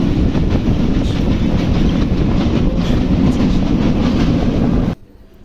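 A train rumbles past on the rail line crossing the Rajshahi University campus in Bangladesh, loud and close, with continuous heavy roar and rhythmic wheel clatter before it stops suddenly.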